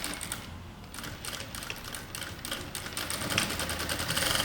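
Sewing machine running steadily while stitching a slanted seam on a sleeve slit, a continuous whirring, rapid needle rhythm heard up close and alone for several seconds.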